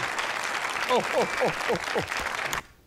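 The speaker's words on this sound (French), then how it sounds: "On vous applaudit." An audience applauds on a French television show featuring children at Christmas, with a crowd clapping steadily under talk from several voices, including higher-pitched ones, before stopping abruptly near the end.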